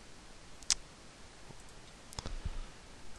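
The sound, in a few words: computer mouse clicking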